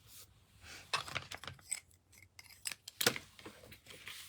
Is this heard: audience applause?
no